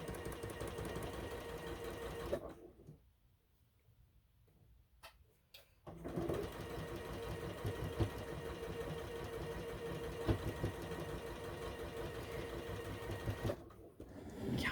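A sewing machine stitches quilt block pieces for a snowman sampler block, running in steady buzzing bursts up close with a pause in the middle, then resuming.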